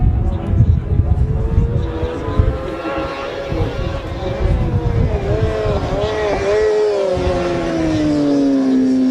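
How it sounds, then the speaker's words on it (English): Racing motorcycles, including Kawasakis, pass on a road course during a Manx Grand Prix junior race, their high engine whine rising and sweeping by fairly close and loud, blended with the continuous drone of further bikes. "the third man is number 26, Adam Jones, another Kawasaki."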